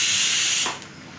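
Chilli, garlic and coriander thecha with onion frying on a hot tawa, heard as a loud, close, hissing sizzle that drops to a quieter simmer after a moment.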